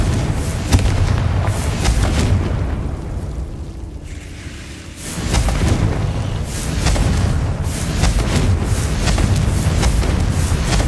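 Bombarda and Confringo spell explosions in Hogwarts Legacy, heard as repeated loud booming blasts that fall into a brief quieter lull before the explosions start again, with no speech.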